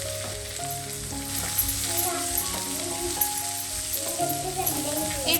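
Chopped vegetables with ginger and garlic fry in hot oil, giving a steady, fairly loud sizzle across the clip, with tonal background music running underneath.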